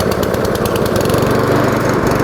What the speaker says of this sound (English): I'm going to pull back the lever and give it a pull.